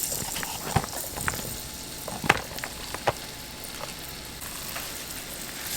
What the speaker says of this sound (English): Brown the onions.